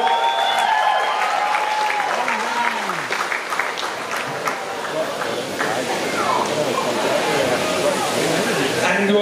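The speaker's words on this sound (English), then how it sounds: "come on folks, cheer yous on" Crowd at a sheep shearing competition at the Royal Highland Show cheering on the shearers, a broad continuous roar of applause and shouts under an announcer's fast commentary.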